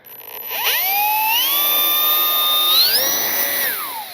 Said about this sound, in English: Motor is on.